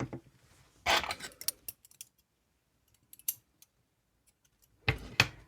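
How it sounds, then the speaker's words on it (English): Scissors snip through crochet yarn in a couple of quick, crisp cuts separated by near silence, close and fairly quiet, with faint handling clicks between. "Chain 1 and cut the yarn."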